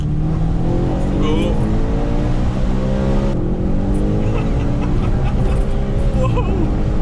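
Audi RS5 with a V8 engine accelerating hard, the loud engine note rising through the gears with a shift partway, heard from inside the car with road noise beneath.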